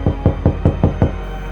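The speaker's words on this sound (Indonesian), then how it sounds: "Lamat-lamat aku mendengar suara pintu diketuk." Knocking on a door: six evenly spaced, firm raps in quick succession, close and clear against a quiet room.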